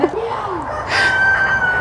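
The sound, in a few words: rooster crowing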